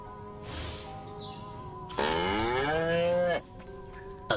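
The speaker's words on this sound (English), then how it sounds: "Again with the moo?" Cattle mooing in the video game Destroy All Humans: a short low call early on, then a long, loud, drawn-out moo with rich harmonics lasting over a second, set against quiet game ambience.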